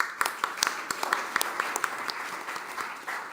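A live audience applauds at a panel discussion on skills development and net zero, steady dense clapping with scattered sharper claps, moderately close, no voices over it.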